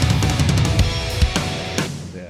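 An edited drum fill using Dr Bob tom samples plays as a quick run of tom hits followed by a few spaced accents with cymbal wash, punchy and close with no talking.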